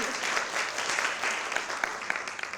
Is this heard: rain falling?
no